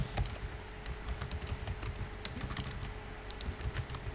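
Keys on a computer keyboard clack in quick, irregular bursts as Java code is typed for a Spring Boot project in Visual Studio Code. The clicks are close but fairly soft, with no voices over them.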